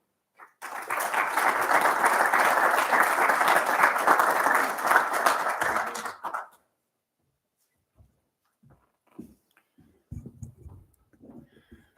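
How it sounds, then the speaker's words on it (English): Warm applause from a lecture audience welcoming guests at a foundation's inaugural lecture, a steady round of clapping that stops abruptly after about six seconds, followed by near silence with faint shuffles and a few soft noises. "I suggest to welcome them by a warm applause."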